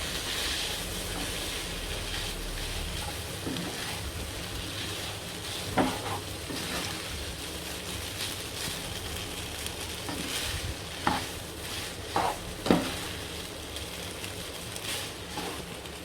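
Egg hakka noodles being tossed and mixed in a hot pan, with a steady sizzling hiss throughout and several sharp clanks of a utensil against the pan, close by and without talk.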